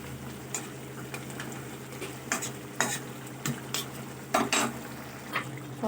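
A spoon scrapes and stirs ground poppy seed and cumin through a fish curry in a pan, sharp irregular strokes over a soft, steady sizzle, close and with no talking.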